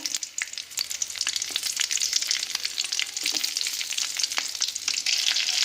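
Black cumin seeds and green chillies crackle and sizzle in hot mustard oil in a kadai, a dense, close spitting hiss with scattered sharp pops throughout and no voices.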